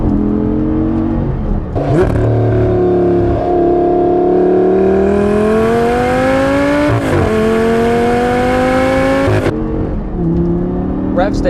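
A 2012 Lamborghini Gallardo LP550-2 revs hard while driving, its engine note climbing steadily toward 8,500 RPM, dipping briefly at gear changes and rising again, loud and continuous from inside the car.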